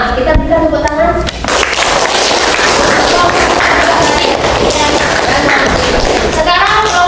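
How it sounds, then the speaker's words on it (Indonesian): A classroom full of people claps in a dense, continuous burst of applause lasting several seconds, with voices mixed in at the start and end. "Kita berikan tepuk tangan."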